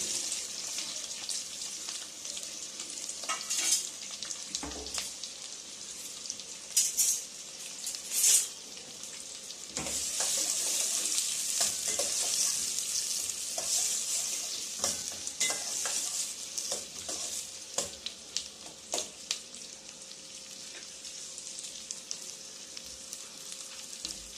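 Chopped onions sizzle steadily in a pan for paneer butter masala, with a spatula stirring and scraping in irregular bursts throughout; close and moderately loud, no voices.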